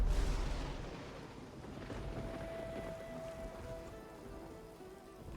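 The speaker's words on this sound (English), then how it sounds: "And now, Lucia, cast rain here, please." Rain spell falling in the video game Divinity: Original Sin 2, a soft, steady hiss of rainfall with a low rumble at the start and a faint tonal hum running through the middle.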